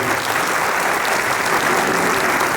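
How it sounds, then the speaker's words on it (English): A large dinner audience at Laxmanbhai Construction Ltd's 70th anniversary celebration gives loud, dense, sustained applause, an even roar of many hands clapping with no talking over it. "Can we give them a huge round of applause for everybody?"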